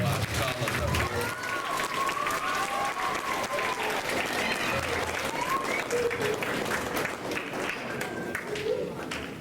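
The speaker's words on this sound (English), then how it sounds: "Give a big round of applause to our scholars up here." At an awards ceremony, a crowd gives scholars a long, full round of applause, steady and moderately distant. Faint voices and cheering rise through the clapping now and then.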